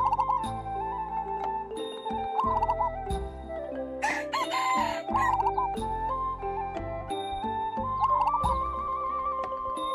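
A rooster crows loudly with drawn-out calls, joined by other chickens clucking and calling close by.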